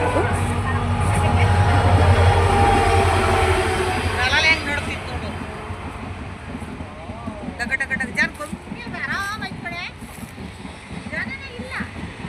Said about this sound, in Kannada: ನಾವು ಅಲ್ಲಿರುವಾಗಲೇ ಟ್ರೈನ್ ಬಂದು